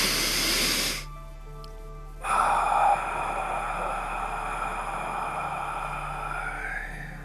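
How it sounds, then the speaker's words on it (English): A person slowly draws a deep breath in through the nose during a guided relaxation session, a soft, steady airy hiss lasting several seconds after a brief pause, heard close and alone. "Nice deep breath in through the nose."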